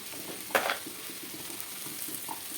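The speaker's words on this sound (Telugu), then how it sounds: "మసాలాలు ఆయిల్ వేసాం కాబట్టి వేగుతూ మగ్గుతూ ఉంటాయి" Coriander seeds, cumin and spices fry in oil for an Andhra-style stuffed brinjal curry, giving a steady low sizzle with a brief louder crackle near the start as seeds hit the pan, no talking.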